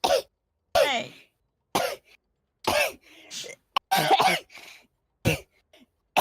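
Several short, sharp coughs and throat clearings burst out in separate clusters with silent gaps between them, close and dry, with some speech mixed in.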